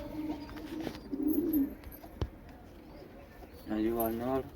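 Pigeons in a pigeon house give two drawn-out throaty coos, close by and moderately loud, with quieter stretches and a sharp click between them.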